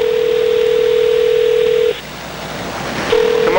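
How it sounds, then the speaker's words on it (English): A telephone line rings while calling a McDonald's in Salem, Oregon: one long steady tone, a pause, then the tone starting again, loud and close with no one answering. "Salem, answer your phone!"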